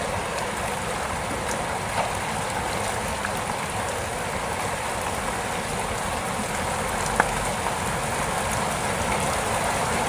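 Steady hiss of rain falling on surfaces, a dense even patter with no talking.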